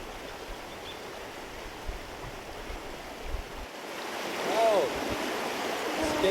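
River water flows steadily at a gold prospecting site, a broad rushing wash with some wind buffeting the microphone and a few faint knocks and a brief chirp-like sound near the end.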